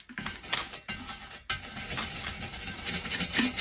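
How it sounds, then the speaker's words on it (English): A scrub brush rubbing foil onto a craft tumbler, giving quiet, irregular scratchy strokes with short pauses between them, close and soft with no talking. "I'm going to start with my scrub brush."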